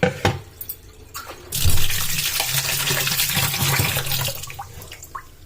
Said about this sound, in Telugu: అటుకులు ఫ్రెష్గా మంచిగా కడుక్కోవాలి